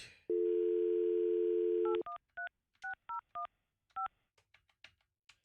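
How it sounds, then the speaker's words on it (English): Telephone keypad tones dialing a cell phone: a steady dial tone holds for nearly two seconds, then a quick sequence of separate touch-tone beeps follows, clear and close, with faint clicks trailing after. "calling Julian's cell phone"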